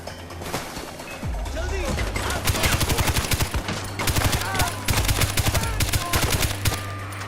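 Rapid gunfire from a player's weapon in Far Cry 4, loud sustained bursts of shots in quick rhythmic succession over a low steady rumble. A voice talks briefly beneath the shooting.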